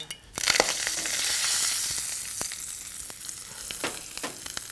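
Minced ginger and turmeric fry in a tablespoon of ghee in a shallow pan, giving a steady, close hissing sizzle dotted with small crackles and clicks throughout.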